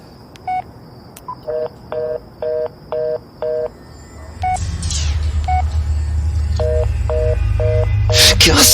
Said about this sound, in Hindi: मैंने झट से अपना फोन निकाला और पुलिस को लगाया।